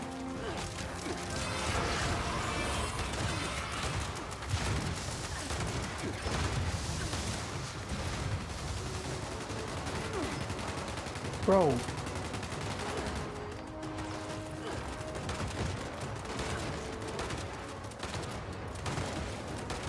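Gunfire in Fallout 76 rattles in repeated bursts and scattered shots throughout, mid-distance and fairly dense, while someone speaks briefly over the shooting.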